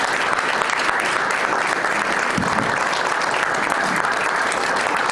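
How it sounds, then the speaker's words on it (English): Steady, dense applause from an audience for candidates at an April 2022 meet-the-candidates event, a continuous wash of many hands clapping at even loudness for about five seconds, with no speech. "let's give these great candidates a round of applause"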